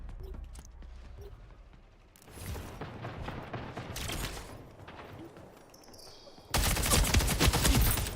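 Pistol gunfire in a video game arena match, heard as bursts of rapid shots with mechanical clicks and a loud, dense volley near the end.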